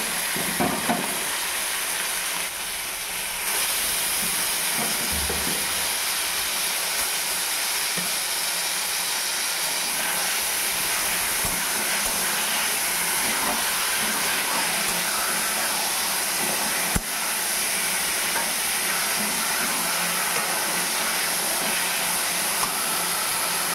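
Chopped boiled vegetables tipped into lightly browned fried onions in a hot pan, setting off a loud, steady sizzle and hiss that runs on unbroken, close by and with no voices.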